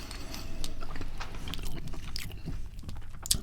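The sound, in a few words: biting and chewing crunchy Chinese fried chicken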